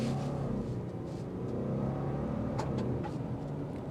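Turbocharged Subaru Outback Wilderness on the road, with a steady engine drone and road rumble heard from inside the cabin, holding a fairly even level throughout.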